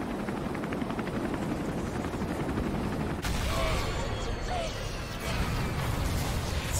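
A helicopter's rotor in the video game Resident Evil 3 drones steadily alongside bursts of gunfire, loud and close, with voices faintly underneath.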